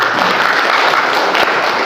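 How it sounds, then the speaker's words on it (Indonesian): An audience claps steadily at a labour union gathering on industrial relations. The applause is close and continuous, forming an even wash of clapping with no voices on top. "Tepuk tangan untuk Apindo."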